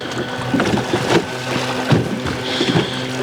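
A small boat moves across the water with a low, steady hum and gentle splashing against the hull, quiet and continuous.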